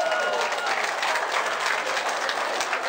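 An audience claps for a performer named Szymon at a Christmas wafer-sharing gathering in Chicago, giving dense, steady applause close to the microphone for about three seconds.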